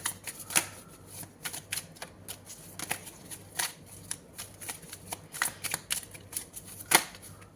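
Tarot cards being shuffled by hand, with a series of crisp, close riffles and snaps arriving in irregular bursts over a faint background hum.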